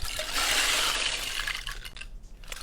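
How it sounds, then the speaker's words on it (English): A rain disc, a rain-stick style instrument, is played, giving a dense hissing shower of tiny pattering grains that swells loud at first and slowly thins and fades. "Playing this rain disc."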